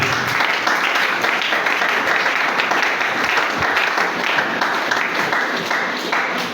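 A church congregation claps and cheers together in a dense, sustained wash of applause, loud and close, with faint voices mixed in.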